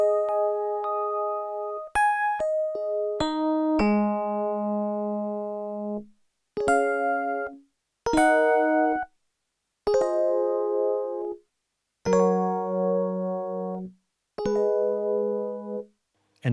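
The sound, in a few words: Yamaha TX802 Big Chord Electric Piano preset patch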